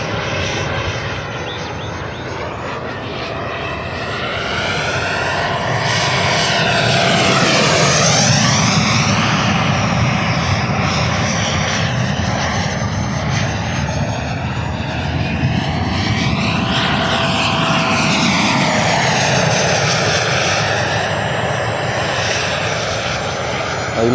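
A Black Horse Viper XL RC jet with a 100mm WeMoTec Midi EVO electric ducted fan on 12S power roars past in repeated loud flybys, its high whine sweeping up and down as it approaches and recedes.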